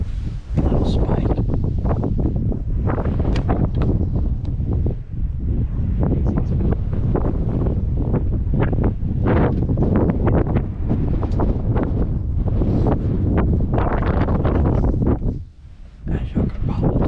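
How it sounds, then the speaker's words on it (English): Strong wind buffets a microphone outdoors on a South Texas deer hunt, a loud, continuous rumbling roar with gusts that swell and ease, dropping away briefly near the end. "As you can probably tell, it's pretty windy now."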